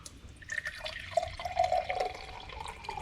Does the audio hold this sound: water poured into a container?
yes